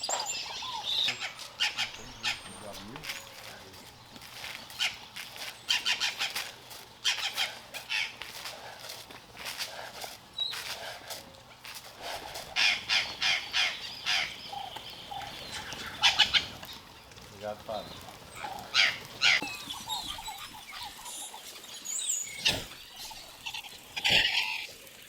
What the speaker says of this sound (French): Il faut à peine quelques secondes pour que plusieurs espèces et plusieurs dizaines d'oiseaux se regroupent